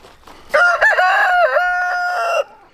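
A rooster crows once, loud and close, a drawn-out crow of about two seconds that wavers in pitch, with a little faint clucking before it.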